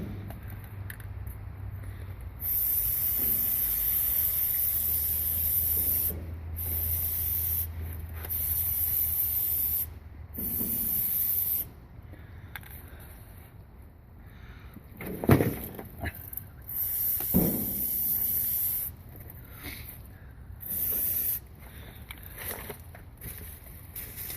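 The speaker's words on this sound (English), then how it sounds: "I'm going to spray down the dryer as well from about here to the other side." Repeated bursts of aerosol spray hiss up close on a Bryant heat pump system's filter dryer, several seconds each with short pauses between them, plus an occasional knock or rub.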